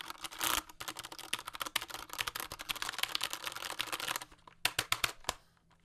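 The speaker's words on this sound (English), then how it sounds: "my old keyboard has Cherry MX brown switches" Fast, continuous typing on a keyboard with Cherry MX Brown switches makes dense, crisp clacks up close, then slows to a few scattered keystrokes before stopping.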